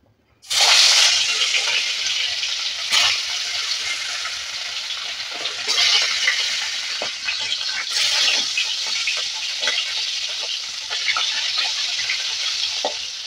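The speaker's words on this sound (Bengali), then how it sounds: "মাছগুলো ঠিক এইভাবে আমরা ভেজে নেব" Bhetki fish pieces dropped into hot oil burst into a loud, sudden sizzle that settles into a dense, steady frying hiss, punctuated by occasional pops and spatula knocks, close and without talk.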